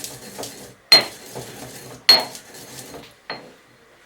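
Spices crushed and ground with a pestle in a mortar for a chicken jalfrezi, three sharp close knocks among softer scraping and grinding sounds.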